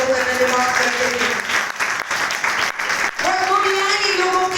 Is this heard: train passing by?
no